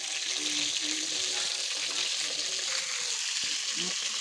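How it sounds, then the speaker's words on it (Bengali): Pieces of pointed gourd (potol) fry in a pan until reddish, making a dense, even sizzle that carries on without break, with a brief faint sound near the end. "লাল করে পটলটা ভেজে নিচ্ছি"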